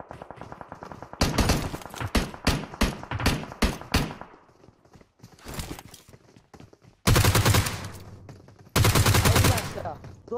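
Gunfire in the mobile shooter PUBG Mobile: a rapid string of sharp shots, then scattered pops, then two long, loud sustained automatic bursts close by.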